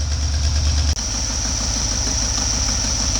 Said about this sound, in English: And the motor's all warmed up. Idle slowed down finally.